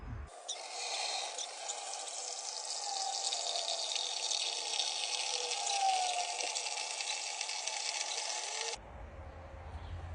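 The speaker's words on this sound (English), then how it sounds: "now that it's all cleaned up, I think it's time to fill it up" Water gushes steadily into an electrolysis tank, an even rushing pour lasting several seconds before cutting off abruptly, leaving quiet background.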